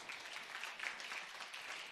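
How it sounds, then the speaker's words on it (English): Faint, distant applause from a church congregation during a pastor's sermon, steady and brief. "come on, clap"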